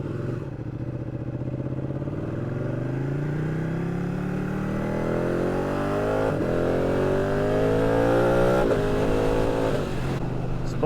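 A Ducati 1299 Panigale motorcycle accelerates hard on the road, its engine pitch climbing through several gears with brief dips at each shift over constant wind rush.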